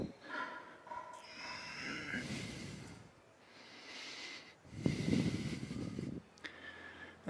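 A person takes slow, audible yoga breaths while holding a forward fold, several long inhales and exhales, some nasal and hissing, heard close and fairly quiet.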